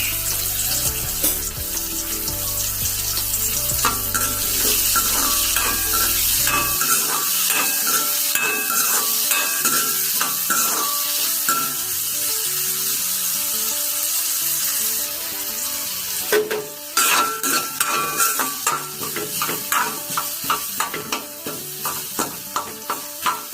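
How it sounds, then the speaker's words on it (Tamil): Chopped onion, tomato and green chilli sizzle loudly in a pan for an anchovy fish curry, with repeated scraping and clattering strokes of a spatula throughout, a low hum fading out early. "அதோட வெட்டி வச்சுருக்கிற வெங்காயம், தக்காளி பழம், பச்சை மிளகாய் எல்லாத்தையுமே சேர்த்து நல்லா மிக்ஸ் பண்ணி விடுங்க."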